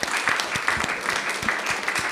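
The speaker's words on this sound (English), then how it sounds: "I think it would be appropriate to clap." An audience at a literary reading claps for the author, brief close-up applause with distinct individual hand claps and low thumps in the room.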